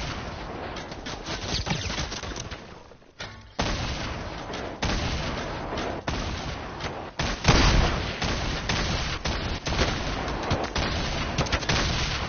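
Dense, continuous gunfire from Fortnite video game play, loud and sustained across the whole stretch with a brief drop near the start, bursts layered like fusillades and booms.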